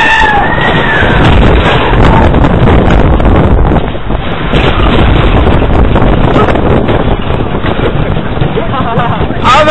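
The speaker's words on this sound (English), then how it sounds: "We're on the oldest roller coaster in the world." Loud, constant wind rush and rattling rumble from riding the world's oldest roller coaster, built in 1912 at Tivoli Gardens, with the roar swelling and easing over the ride and voices mixed in.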